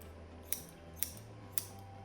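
Scissors cut hair during a men's haircut, three crisp snips at regular half-second intervals, close and quiet over a faint low background hum, with no talking.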